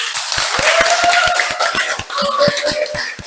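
A small classroom group claps for student group 3 after their drama presentation, a thin run of separate, fairly regular hand claps over a faint tonal hum in the room.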